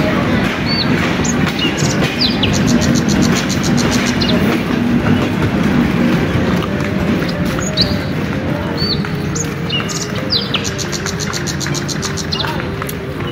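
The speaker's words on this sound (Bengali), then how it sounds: "তো এই ট্রেন দেখতে পাচ্ছেন, এই ট্রেনে আসছে" A train pulling into a station, a steady loud rumble of rolling wagons with faint clickety-clack and some chirping, while people talk close by.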